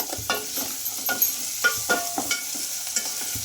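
Halved onions fry toward golden in a pan for urad dal poori, with a constant sizzle under repeated scraping and clinking stirs of a spatula, close and fairly loud.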